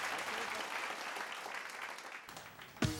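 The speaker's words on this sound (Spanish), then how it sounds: "Un aplauso." Applause follows a gymnastics routine at a playful home-style competition, a steady wash of clapping that holds fairly evenly, then a sudden louder knock or bump near the end.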